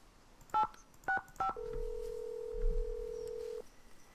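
In Nancy Drew: Ghost Dogs of Moon Lake, a telephone keypad gives three separate dialing beeps, then a steady tone holds for about two seconds before cutting off, clear and quiet.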